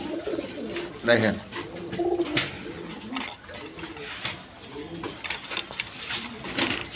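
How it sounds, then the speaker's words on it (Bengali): A pair of big-sized, milky-coloured Rajgolla pigeons coo softly in low repeated calls, mixed with background clatter and someone talking over them. "এখানে এক পেয়ার রাজগোল্লা কবুতর আছে মিলি কালারের মধ্যে"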